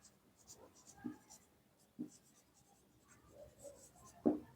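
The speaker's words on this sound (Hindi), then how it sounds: "यहां पर लिखता हूं" Marker or chalk writing on a board during a lesson, a few soft separate strokes and taps at a quiet level with faint background voice.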